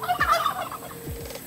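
A turkey gobbles outdoors, a quick warbling burst of rapid descending notes, loud and fairly close, followed by a softer second gobble, with no one talking.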